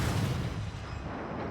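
Heavy destroyer guns in a naval video game firing armor-piercing shells, a loud, dense rumbling boom that swells at the start and rolls on steadily without any voices.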